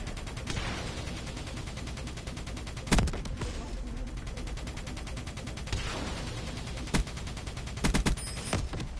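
Rapid automatic gunfire and bursts of shots in Black Ops 3 multiplayer on PS4, a dense rattling stream punctuated by several sharp loud single blasts, with a player talking now and then over it.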